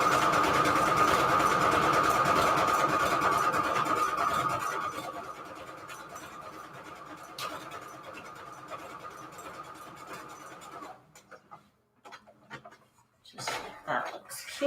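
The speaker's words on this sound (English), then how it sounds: "we need to do the blanket stitch now, which on my machine is 31" A home sewing machine hums steadily while stitching a blanket stitch on paper strips for journal cards, then slows and quiets, followed by scattered clicks and handling sounds near the end.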